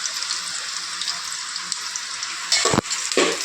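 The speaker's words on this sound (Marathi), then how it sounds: "हे बघा कांद्याला आता जरा ब्राऊन होईपर्यंत असं परतून घ्यायचं." Onions sizzle in a pan as they brown, a bright continuous hiss close up, joined near the end by a couple of loud scraping stirs against the metal.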